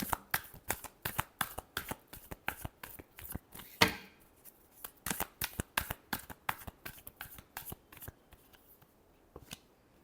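Tarot cards being shuffled for a reading: a close, steady run of crisp riffling flicks and slaps, repeated in quick bursts with one sharper snap near the middle and sparser flicks toward the end.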